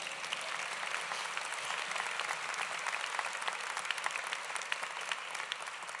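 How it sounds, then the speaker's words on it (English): A graduation audience at a college of osteopathic medicine ceremony claps steadily, a dense, continuous wash of many hands in a large hall with no voices rising above it. "You guys are supposed to clap now."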